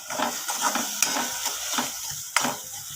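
Tomato stirred and cooked in oil in a pan while making a Maharashtrian dill and moong dal bhaji: a soft sizzle under repeated scraping stir strokes and a couple of sharp utensil knocks, close up and with no talking.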